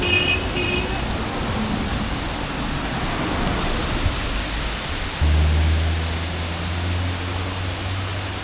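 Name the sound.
waterfall rushing near the road to Munnar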